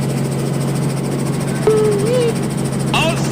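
A helicopter engine and rotor drone steadily and loudly from inside the cabin, a constant heavy hum with a brief tonal sound and a short voice over the top.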